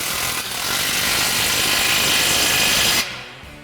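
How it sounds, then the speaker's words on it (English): A power tool tightening an outlet exhaust clamp on a 2022-2024 Toyota Tundra Magnaflow Overland single exhaust, a steady loud whirring burst of about three seconds that stops abruptly. "then we can go ahead and tighten down our clamp for our outlet."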